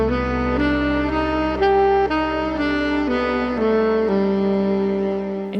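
A melodic minor pentatonic scale is played note by note over a sustained low bass tone, each pitch ringing clearly and stepping upward at a steady pace, close and loud with no speech.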